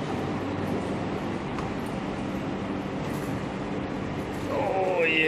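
A Shanghai Maglev train arrives at the station with a steady, broad rumbling roar that swells slightly at the end, where a higher tone appears.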